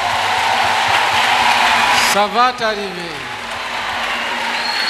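A church audience acclaims Jesus Christ with loud, dense cheering and applause that fills the room. The applause then eases as a voice speaks over it, with the crowd noise lingering faintly beneath her.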